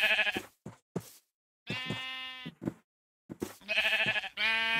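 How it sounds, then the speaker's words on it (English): Sheep in the Minecraft video game bleat in several short, clear, loud calls with brief silent gaps between them, and no talk is heard over them. "Here's the first animals I've seen. They're just sheep."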